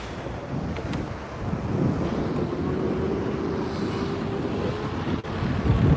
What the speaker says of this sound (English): Woo, windy.